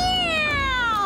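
Cartoon cats meow in a drawn-out, falling cry, one clear sustained call heard alone and close.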